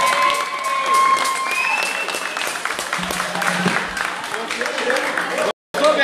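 An audience applauds a samba band at a bar, clapping over lingering music and a voice, the applause dense and steady for several seconds before a brief cut.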